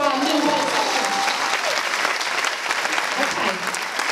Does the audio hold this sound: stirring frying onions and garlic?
no